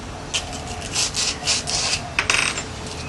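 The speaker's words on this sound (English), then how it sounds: "we're going to have to sand the brass tubes" Brass pen-turning tubes are sanded by hand, several quick close rubbing strokes of abrasive on metal in an uneven rhythm, ending with a small metallic clink.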